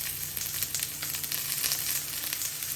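Mushrooms and five or six garlic cloves sizzling in a grill pan: a steady, close, hissing sizzle with crackling bursts and no voices.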